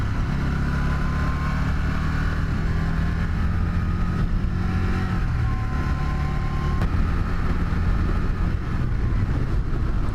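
A 2013 Can-Am Spyder ST engine drones steadily while riding, a loud close low rumble with slight shifts in pitch and no talking over it.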